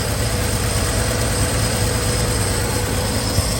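A 1968 Chevrolet C10 small-block V8 runs steadily after a tune-up and exhaust leak repairs, a loud continuous low rumble with a faint ticking edge and no talking.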